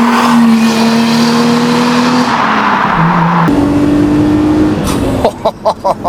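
An Audi Coupe's engine revs under load on an open road, a loud steady drone rising in pitch through the gears with brief dips at each shift, ending in a few short blips.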